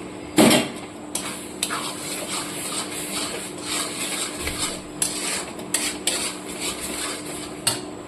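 A pan of spice paste with ginger, garlic, turmeric, chilli, cumin, coriander powder and milk powder is stir-fried for a mutton and potato curry, with a metal spatula scraping and clinking irregularly against the pan over a soft background hiss.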